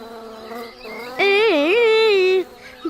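A cartoon bee character buzzes for about a second, a loud, close, wavering drone that rises and dips in pitch, with faint background sound before and after.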